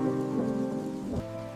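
Steady rain falls in the open, far from anywhere, a dense continuous patter that runs through the whole stretch beneath sustained tonal music.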